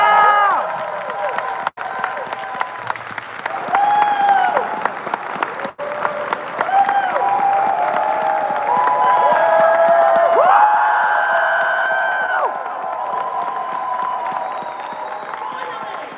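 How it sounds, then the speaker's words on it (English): A panel audience at a Power Rangers Dino Fury and Cosmic Fury session breaks into sustained applause, with high whoops and cheering voices rising over the clapping throughout. "can we give a round of applause"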